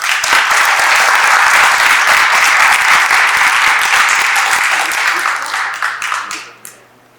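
Sustained applause fills a room at the Newark Public Library, loud and dense for about five seconds before thinning into scattered final claps and fading out.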